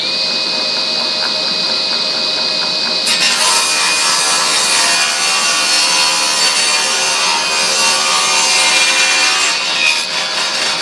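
A saw blade rips wood into thin runner strips for a miter sled, starting as a high whine and breaking into a loud, continuous rasping cut that holds steady to the end, close by with no speech.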